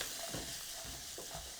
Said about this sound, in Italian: Lascio sfrigolare qualche minuto